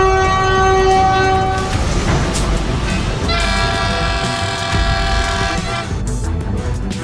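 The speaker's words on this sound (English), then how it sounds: "Immediately, a train came rushing toward it and slammed into the rear of the truck, causing a violent collision" A train horn blares loudly as the train rushes along the railway toward a dump truck stuck on the tracks, with rumbling rail noise continuing throughout and no speech.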